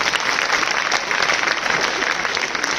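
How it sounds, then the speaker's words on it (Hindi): A live audience at a Hindi poetry recital (kavi sammelan) claps steadily and densely for about three seconds, loud and sustained, with no one speaking over it. "अच्छा लग रहा हो ताली बजाओ।"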